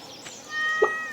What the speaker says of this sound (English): That's my cat, Kirby.